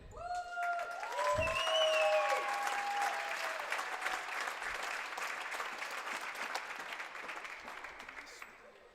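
An audience gives sustained clapping as Stjarnan's girls' basketball team receives first-place medals, with a loud burst near the start that slowly thins out over several seconds, some speech over the top.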